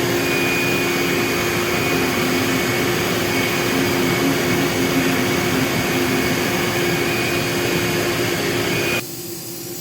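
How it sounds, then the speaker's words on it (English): A vacuum cleaner drones loudly and steadily while cleaning the filter of a Gerber CNC router, then drops in level near the end, with no speech. "I'm going to grab the vacuum to clean the filter"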